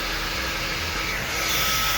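A hair blow dryer runs at close range in a steady, loud roar that does not stop, as it smooths strands during a vent-brush blowdry.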